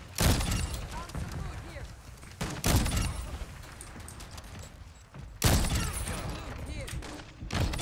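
Gunfire from sniper rifles and other weapons in Call of Duty Modern Warfare 2, with several loud, sharp bursts spaced a few seconds apart over rumbling game ambience, no talk.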